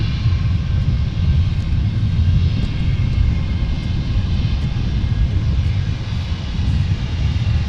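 Airplane engines at Portland International Airport give a loud, steady, broad roar with deep rumble that holds unbroken for several seconds, with no voices.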